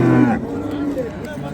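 Cow lowing at a busy livestock market, one loud drawn-out moo at the start that fades into general crowd noise and faint voices.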